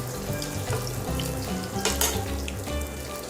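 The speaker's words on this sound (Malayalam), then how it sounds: "ഇതിന് മുകളിലേക്ക് നമുക്ക് ബട്ടർ ഒഴിച്ചു കൊടുക്കാം" Beef steak flavoured with rosemary sizzles steadily in a hot pan as butter is poured over it, a constant close frying hiss with a brief brighter surge partway through, no voices.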